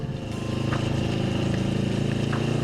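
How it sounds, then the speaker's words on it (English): Motorcycle engine captured close up by a small mic mounted on the license plate, a steady loud low rumble with fast pulsing exhaust beats, continuous throughout without talk. "just to try and pick up some of that lovely engine noise"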